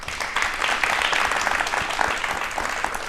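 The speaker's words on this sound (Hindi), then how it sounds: "मैम, तालियां आपके लिए तो बनती हैं" Audience at a televised talk show clapping steadily, a dense, even wash of applause that holds at moderate loudness throughout without pause.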